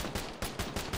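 A short burst of machine gun fire in an Arma game, about five rapid, evenly spaced shots cracking loudly and close with no voices over them.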